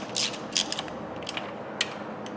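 Wrench tightening starter motor bolts on a car, a few sharp ratcheting clicks and metallic ticks spaced irregularly over quiet background, close and moderately soft.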